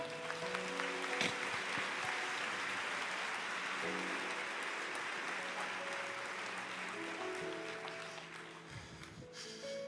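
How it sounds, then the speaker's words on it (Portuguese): Church congregation applauding during a worship service, a broad, even wash of clapping from a large room, held at moderate level for about ten seconds with faint tones beneath. "Aplauda o Senhor, igreja."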